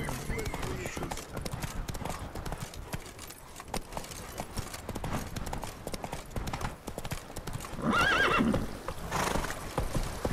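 Roach, Geralt's horse in The Witcher 3, clip-clops along at a steady walking rhythm, with a clear neigh rising near the end over faint background talk.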